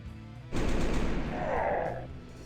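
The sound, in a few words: multi-laser gunfire in video game Warhammer 40,000 Final Liberation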